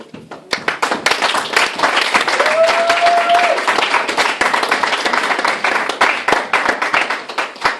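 A church congregation applauding to acclaim Jesus Christ, dense sustained clapping from many hands close by, with a voice rising briefly through the applause before it thins into scattered rhythmic claps.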